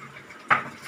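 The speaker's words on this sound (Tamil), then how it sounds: "பாத்திரம் வச்சுட்டேன்." A cooking pot is set down once with a short metallic clink in a home kitchen while chana dal payasam is being made, a single faint clatter amid quiet room noise.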